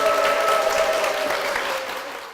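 Dense, steady applause from a church congregation fills the room as a deaconess is welcomed on stage, loud and continuous before easing slightly at the end.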